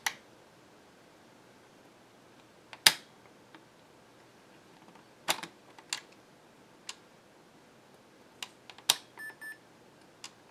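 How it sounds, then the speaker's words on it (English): An Epson HX-20 portable computer powered on during repair gives a brief power-on self-test beep among scattered clicks and taps in a quiet room, with short tonal bleeps near the end. "we'll cut this on and see if we get a post beep"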